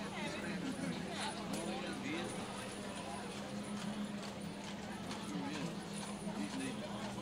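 Horse hooves clip-clopping on pavement as outriders and horses pass in a Mule Day parade, a faint, busy rhythm of hoofbeats under steady crowd noise and nearby talking.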